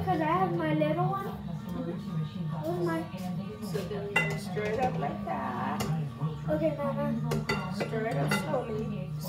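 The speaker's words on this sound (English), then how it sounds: "You see, you're just gonna stir it nice and slowly." Punch being stirred slowly in a bowl, with soft clinks and scrapes of a utensil against the dish running steadily beneath almost continuous talk from an adult and a child.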